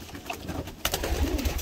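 Pigeons in a loft coo in low, rolling murmurs that swell louder partway through, with soft rustling among several birds close by.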